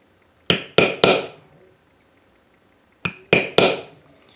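Two quick sets of three sharp taps from a stamp struck on a floral decoration, each hit crisp and woody, in a quiet room with no talk.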